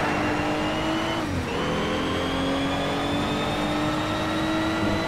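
Race car engines roaring in Need for Speed: SHIFT with a Toyota Supra in the pack, a loud continuous drone whose pitch rises steadily during acceleration and briefly dips as a gear changes.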